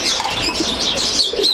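Pigeons at the Tongi pigeon market in Bangladesh give a quick flurry of wing flaps, with soft cooing and light chirps close by over a busy background.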